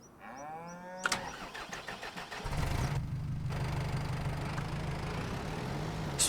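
Farm tractor engine cranking with a whining starter, then catching and settling into a loud steady idle rumble, heard close with no talking.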